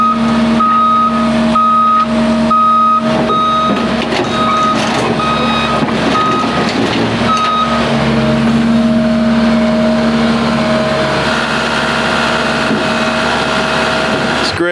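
Caterpillar D8 bulldozer idling with a heavy diesel rumble while a steady reversing beeper sounds repeatedly, loud and close throughout.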